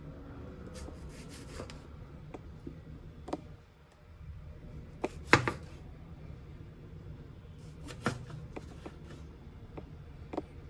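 A butcher knife slices a tomato on a cutting board, giving quiet, scattered taps and scrapes of the blade against the wood, with a few sharper clicks over a faint background hum.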